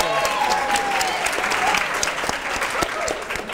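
Studio audience claps steadily at a TV spelling quiz show, a dense, loud round of applause that holds throughout and tapers slightly at the end.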